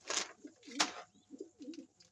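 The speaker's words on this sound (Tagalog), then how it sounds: "Titingnan ko lang yung ibon ni Dada" Pigeons kept by a fancier coo in short low bursts at a loft, a few soft calls spaced across a couple of seconds with a brief sharper noise near the start and middle.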